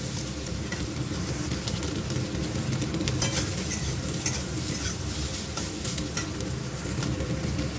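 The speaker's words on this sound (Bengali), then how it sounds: "তারপরে আলুটা ভাজবো" Potatoes fry in a pan on a home stove, a steady close sizzle running throughout with light stirring scrapes and occasional utensil clinks.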